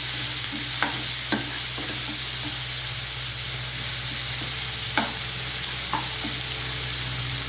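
Beetroot curry seasoned with turmeric and salt sizzles steadily in a pan while a spoon stirs it, with occasional sharp scrapes and taps against the metal over the constant frying hiss.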